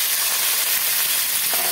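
Potatoes and jackfruit seeds tumble into spices already fried down in oil, setting off a steady, close sizzle with broad hiss that stays level for under two seconds, with no voices.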